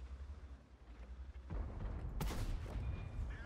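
Tank cannon fire in World of Tanks at tier 10, where a quiet low rumble gives way to a sudden heavy boom followed by a sharp crack and lingering echo.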